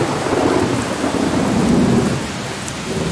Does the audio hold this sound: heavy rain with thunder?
yes